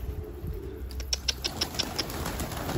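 Pigeons flap their wings as they come down onto a rooftop, a run of quick, close wingbeats in a rhythmic burst over low outdoor background noise.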